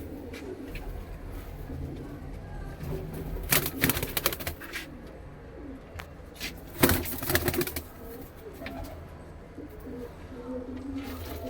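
Soft, low pigeon cooing carries on steadily, interrupted twice by brief bursts of clattering, flapping noise.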